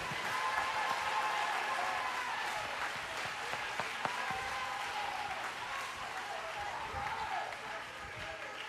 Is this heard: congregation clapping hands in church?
yes